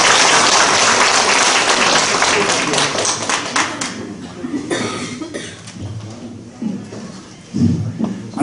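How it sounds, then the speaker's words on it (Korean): Audience at a Korean election campaign event clapping warmly to welcome guests, dense close applause that thins out after a few seconds into scattered claps, coughs and murmurs. "여러분 따뜻한 박수로 맞아 주시기 바랍니다"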